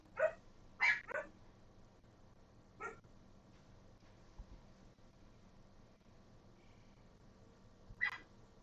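Several dogs barking indoors at something outside, a quick cluster of sharp barks near the start, a single bark a few seconds later, then one more near the end, with quiet room tone between.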